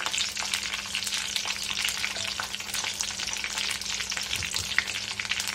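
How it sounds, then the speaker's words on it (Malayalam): Marinated chicken pieces frying in coconut oil over a low flame, a steady close crackling sizzle with soft bubbling spatter running continuously, no voices. "ഞാനിപ്പോ 2 പീസ് ഇതാണ് ഫ്രൈ ചെയ്യുന്നത്"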